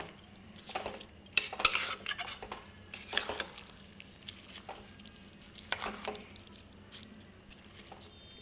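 Khichuri is stirred and sautéed in ghee in a pot: a quiet, close sizzle runs beneath repeated scrapes and metallic clinks of a spoon against the pot, with a few louder knocks early on and no talking.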